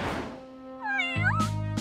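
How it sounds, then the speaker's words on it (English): A trapped cartoon kitten stuck up high gives one clear, high, wavering meow, followed by a short thunk. "The little kitty is trapped right up there."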